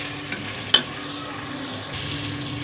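A spoon stirs coriander powder into chicken curry in a pan, with a couple of sharp scrapes and knocks over a soft steady sizzle, close and fairly loud.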